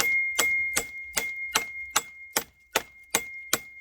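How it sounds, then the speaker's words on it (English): A steel knife blade strikes hard wood while chopping, giving about ten evenly spaced, sharp chops, each with a clear ringing metallic chime, loud and close. "You hear that? The steel is making a chime."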